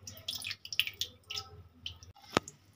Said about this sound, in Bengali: এরকম অল্প অল্প জল দিয়ে সাবুটা আমি ধুতে থাকবো